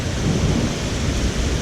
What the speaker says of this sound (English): It's raining hard as shit.